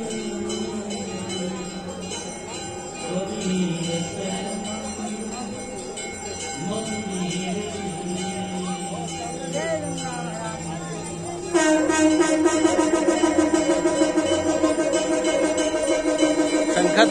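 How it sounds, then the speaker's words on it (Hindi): A conch is blown during the evening aarti at Dashashwamedh Ghat in Varanasi. Over bells and a busy crowd, a loud, sustained, harmonic blast enters partway through and holds steady to the end. "शंख की ध्वनि आप लोगों को सुनाई पड़ रही है।"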